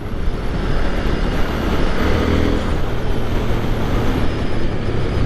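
A 2023 KTM 890 Duke R motorcycle engine pulls hard out of a turn, a loud, steady, broadband roar with wind rush sustained throughout, close and continuous with no pauses.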